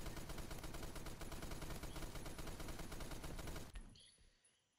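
Rapid automatic gunfire from the Roblox shooter Phantom Forces, a dense continuous burst of shots for several seconds that cuts off abruptly, leaving a faint decaying tail.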